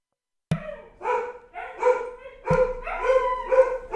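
Dogs bark repeatedly in a home, a run of loud, close yapping bursts that starts abruptly after a short silence and goes on steadily with no talk over it.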